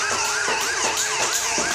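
Wailing police car siren in the racing game Asphalt 9 Legends, a loud, close, continuous rising-and-falling yelp cycling roughly every half second, with faint road vehicle noise beneath.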